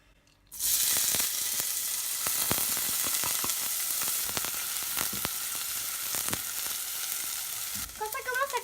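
Chopped onions hit a pan of hot olive oil with a sudden loud sizzle that holds steady and close for several seconds, dotted with small pops and crackles, before a brief voice-like sound at the end.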